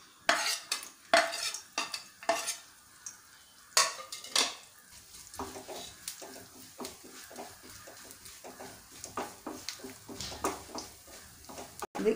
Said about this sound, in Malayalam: കുറച്ച് തേങ്ങാക്കൊത്ത് വാട്ടിയെടുക്കാനായിട്ട് ഇതിലേക്ക് ഒരു സ്പൂണ് നെയ്യ് ഒഴിച്ച് കൊടുക്കാം. നമുക്കിതിലേക്ക് ഇട്ട് കൊടുക്കാം.